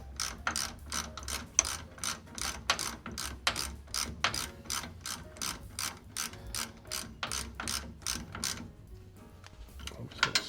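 Bolts on a 1929 Ford Model A Roadster's synchronized transmission are tightened with a hand ratchet: a steady, rhythmic run of sharp, close clicks in quick repeated strokes that slows briefly near the end.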